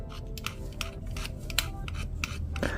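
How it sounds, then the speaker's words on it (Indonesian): A knife shaves leftover bar soap into a container, giving a run of short, close scraping strokes at an uneven rhythm, each a brief rasp, with faint clinks of the blade against the dish. "sabun-sabun batang sisa ini kita serut terlebih dahulu seperti ini"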